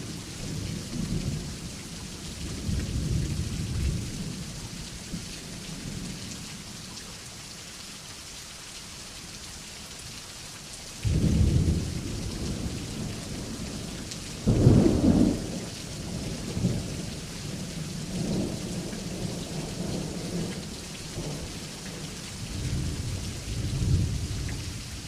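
A thunderstorm with steady heavy rain and several deep rumbling thunderclaps from lightning strikes, the loudest bursts around the middle, with no voices.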